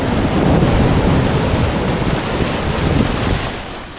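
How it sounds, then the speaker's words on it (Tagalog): Ocean waves break on a shore at Hibasa, a loud, continuous wash of surf mixed with wind buffeting the microphone, easing slightly toward the end. "Sarap sa tinga mga boss itong pampas ng alon dito sa Hibasa no."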